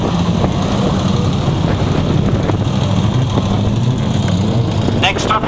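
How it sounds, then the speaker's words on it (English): A 1935 Ash TT replica racing car revs up hard as it accelerates toward a corner on a hillclimb course, the engine note rising loud and steady throughout, with a higher whine near the end. "Listen to the engine as it winds up and Peter gives it a little bit of go"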